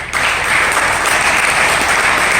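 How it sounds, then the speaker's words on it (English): An audience at a closing-remarks event applauds instructors and kids, loud, close, steady clapping that starts abruptly and continues without talk. "give your instructors, kids, and just the kids, a round of applause"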